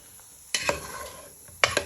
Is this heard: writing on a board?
no